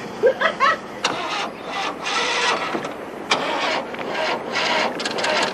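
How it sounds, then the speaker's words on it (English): A car engine cranks repeatedly without catching, uneven grinding bursts in a stop-start rhythm, close and fairly loud, with a few short voice sounds at the start. "Hey, the engine won't start."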